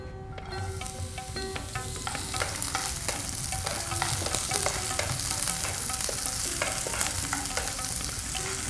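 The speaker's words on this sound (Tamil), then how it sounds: "இதைத்தான் நீங்கள் இப்போ போட்டு வதக்க போறீங்க." Chopped pirandai (veld grape) stems sautéing in a pan give a steady, close sizzle and frying hiss, with frequent scrapes and clinks of a spoon stirring throughout.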